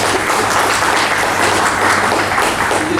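An audience clapping, steady dense applause at close range with no talk over it.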